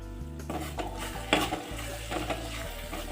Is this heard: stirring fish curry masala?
yes